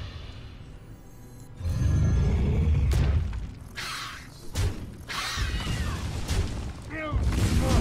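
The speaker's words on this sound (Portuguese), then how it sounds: "Explosão." A loud booming explosion in the card game Hearthstone bursts in, followed by crackling debris and further blasts, with game sound effects and brief voices around it.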